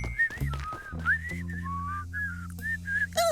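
Someone whistles a casual, wandering tune of short melodic phrases, close and clear over a faint low hum, with a few bumps and knocks around it.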